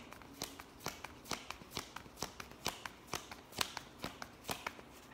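A deck of oracle cards is shuffled by hand, giving a steady run of crisp riffling slaps that repeat about every half second, close and fairly quiet.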